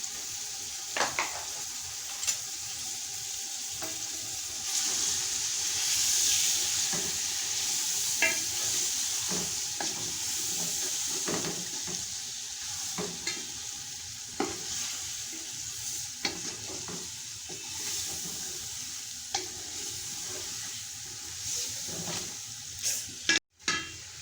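Beef nalli nihari frying in a pot with turmeric, spices and chillies, a steady sizzle with scattered clinks and scrapes of stirring throughout, and a sharp knock near the end, with no talking.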